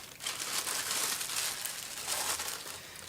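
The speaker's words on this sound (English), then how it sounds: "a simple nick opens the plastic bag" The plastic bag around a pair of PSB Alpha AM3 active bookshelf speakers is nicked open and handled, giving close, steady crinkling and rustling throughout with no voices.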